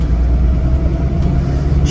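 A six-cylinder, manual-transmission Chevrolet Blazer from about fifty years ago with its factory exhaust gives a loud, steady low rumble close by, with no spoken words over it.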